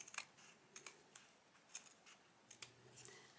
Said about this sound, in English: Alright, let me just cut it across here.